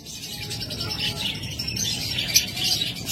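A pair of albino Fischer's lovebirds chirps with scattered high, bright tweets over a soft background murmur, sounding close and fairly steady throughout.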